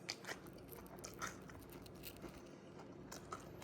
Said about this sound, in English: I'm gonna taste a piece of the fish.